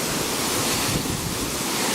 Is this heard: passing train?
no